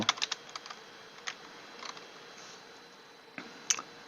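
Computer keyboard typing while a meeting is set up in Outlook: scattered, quiet key clicks in short bursts with pauses, the loudest taps near the start and end, no talking.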